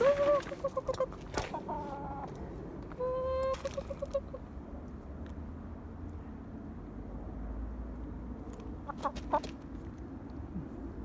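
Chickens clucking and calling in a backyard in short bursts, fairly close, with quiet outdoor background between calls.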